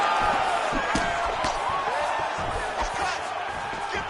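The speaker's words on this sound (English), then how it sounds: "you hear the crowd react every time they come together" A crowd at an MMA fight murmurs and roars at a moderate distance, with sharp impacts and surges of noise as strikes land, under a commentator's talk.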